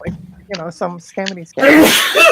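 A single loud, close sneeze bursts out right after a few words of nearby talk.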